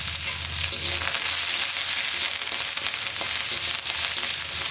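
Garlic, ginger, about ten shallots and curry leaves sauté in hot oil for a Tamil kuzhambu gravy, giving a loud, steady sizzle with soft stirring scrapes throughout and no talk.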